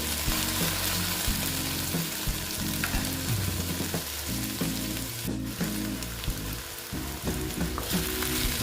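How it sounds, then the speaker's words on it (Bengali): Taro stolons (kochur loti) fry in a pan with a steady, close sizzle that runs the whole time, with occasional stirring scrapes and a low, even hum underneath. "দেখো আমি ভালো মতো একটু ভেজে নিচ্ছি"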